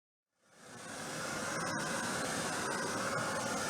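A hair dryer blows on freshly glued paper, switching on and quickly swelling to a steady, close whooshing roar that holds alone to the end.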